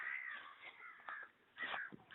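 Crows caw in several harsh, rasping calls, a few overlapping, fairly close and clear against a quiet outdoor background.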